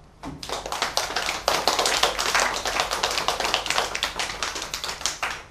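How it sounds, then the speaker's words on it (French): A small group claps after a children's book reading, dense and steady hand claps continuing for several seconds, close and without talk. "On applaudit Sophia."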